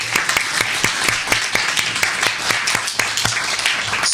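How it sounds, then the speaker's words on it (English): A debate audience claps steadily, with many hands making dense, even applause that stays loud throughout and has no talk over it. "A round of applause for her."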